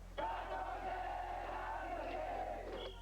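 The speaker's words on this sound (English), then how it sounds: "Organized rooting sections perform cheers and routines that make the wave look like low tide." An organized rooting section of Japanese baseball fans cheers in unison at a ballpark in 1990, a sustained crowd chant that starts abruptly and stops together, heard from a distance.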